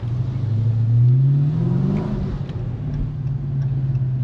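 A 2023 Dodge Charger Super Bee Scat Pack Widebody accelerating, heard from the cabin: a loud, low engine drone rises in pitch as it revs up, then settles into a steady, throbbing hum with road noise.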